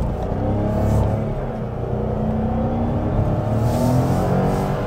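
A Nissan Magnite with an AMT gearbox accelerates hard on a highway, its engine note rising steadily under heavy road and wind roar from inside the cabin, with no talking.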